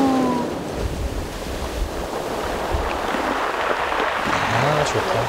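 Ocean waves on the winter sea at Bian Island off Gunsan: a loud, continuous surf roar mixed with buffeting wind noise, with faint voices and other tones now and then.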